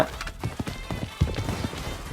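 Footsteps from the floor above in the shooter game Blood Strike, a run of soft, uneven thuds spaced through the clip at moderate distance, with no talk over them.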